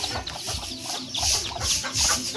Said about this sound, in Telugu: ఇక్కడ చూడండి, గుడ్లు పెడుతుందా కోడి?